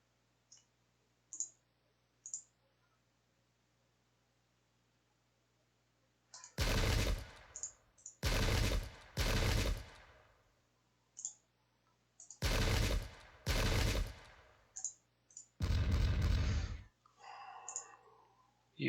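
Infantry musket volleys in a Pike and Shot battle game: five or six loud, crackling bursts of massed shots, each lasting about a second, separated by quiet gaps with faint scattered clicks.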